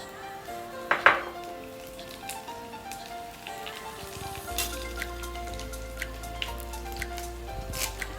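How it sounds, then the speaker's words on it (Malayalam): Urad dal and dried red chillies fry in a pan with a quiet, steady crackle and sizzle, broken by a sharp clink of a utensil near the start and scattered pops throughout. "അപ്പോൾ ഉഴുന്നുപരിപ്പും വറ്റൽമുളകും ഒന്ന് മൂത്തോട്ടെ"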